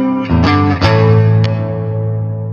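Electric guitar through a Nux amp on a Marshall crunch model, loud distorted chords struck twice and left to ring and sustain, close and alone.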